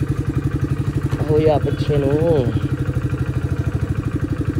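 A motorcycle left standing in the sun idles with a steady, rapid, pulsing engine thump, close and loud throughout, while someone speaks briefly over it.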